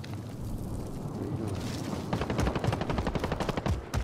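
Gunfire in the game Warzone crackles in rapid automatic bursts after a low rumbling lead-in, the rattling shots loud and close, no voices over them.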